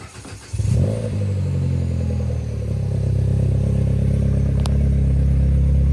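A Mini Cooper S engine, fitted with a new catalytic converter, cranks and catches, then settles into a steady, loud close-up idle with a deep, even rumble.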